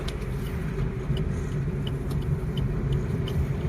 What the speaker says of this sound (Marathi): तर बघा, गाड्या अशा लागलेल्या आहेत ना